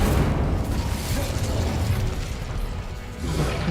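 A fire spell cast in Hogwarts Legacy bursts out as a loud, dense whooshing roar that holds steady for a few seconds with crackling texture, then briefly dips before swelling again at the end.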